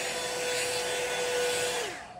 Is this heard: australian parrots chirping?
no